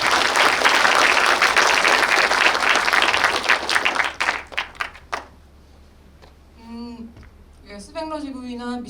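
An audience at a Jeonju film-event talk claps in sustained, dense applause that fades out, followed by a few scattered claps and then speech.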